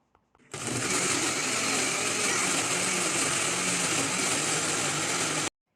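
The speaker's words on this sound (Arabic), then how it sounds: "ورح أخلطهم كتير منيح بالخلاط" An electric blender whirs steadily for about five seconds, grinding a dry spice mix of cumin, oregano, paprika, turmeric and sumac, starting abruptly after a brief tap and cutting off cleanly at the end.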